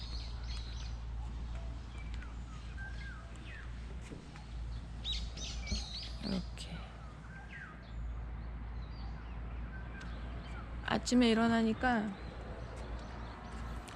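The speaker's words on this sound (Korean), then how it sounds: "지금도 뻐꾸기 소리가 들리고 있어요." A cuckoo and other birds call and chirp in the distance outdoors at a park campsite, with a person talking over them throughout.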